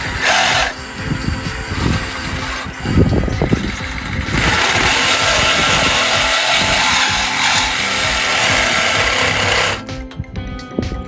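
A power tool bites loudly into a metal sway bar disconnect part on a 2020 Jeep JL, grinding and rasping in uneven bursts before settling into a sustained harsh whir that stops near the end.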